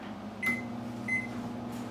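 A microwave oven runs at 50% power with a low steady hum, with two short beeps standing out above it; quiet, close and with no voices.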